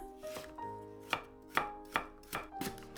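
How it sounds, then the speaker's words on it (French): Two carrots being diced into small cubes on a cutting board, a series of sharp, separate knife chops close by, spaced irregularly with short pauses between strokes. "Je coupe 2 carottes en petits cubes"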